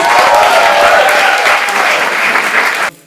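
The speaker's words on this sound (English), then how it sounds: "Everyone make some noise for Lioness" Loud, dense clapping from a crowd at a live show at The Roundhouse fills the space steadily, then cuts off abruptly near the end.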